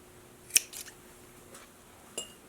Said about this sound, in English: You want to trim any excess fabric that you don't need on your edges